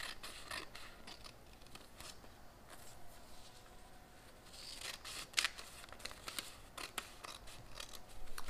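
Scissors snipping paper while cutting out a snowflake decoration, a series of short crisp cuts in a quiet room, with one sharper snip standing out partway through.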